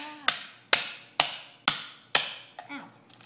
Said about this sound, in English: Use the side of the hammer.